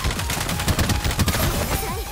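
Dense bursts of rapid gunfire crackle almost continuously in the battle royale shooter The Novita, with overlapping shots and loud, sharp reports and no talking.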